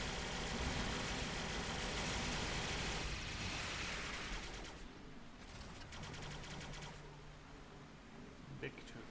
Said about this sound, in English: Let's go shoot some Terrans.